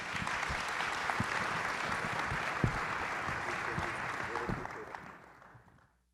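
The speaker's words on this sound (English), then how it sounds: "Give our panel a round of applause" Audience applause for a panel at a South Carolina Opportunity Zone summit, steady clapping from a room of people for about five seconds before fading out.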